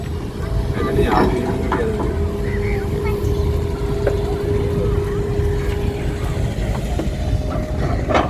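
A luxury yacht's engine runs at Colombo Port City in a steady, continuous low drone, fairly loud and close, with voices talking over it.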